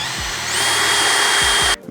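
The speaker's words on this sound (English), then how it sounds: "go ahead and drill straight down" A power drill bores pilot holes through a metal door-safety bracket on a 2019+ Mercedes Sprinter van, a loud steady whine close up that runs for nearly two seconds, then cuts off abruptly.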